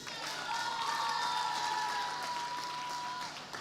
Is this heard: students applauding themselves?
yes